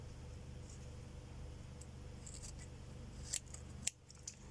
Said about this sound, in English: The scissors need sharpening.